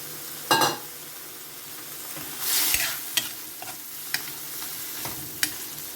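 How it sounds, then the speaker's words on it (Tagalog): Shrimp sautéing in oil in a pan for ginisang hipon with bok choy and egg, a soft steady sizzle broken by a few sharp scraping stirs and clinks of the utensil, close and with no talking. "Dagdag tayo ng kaunting mantika kasi magigisa pa tayo dyan."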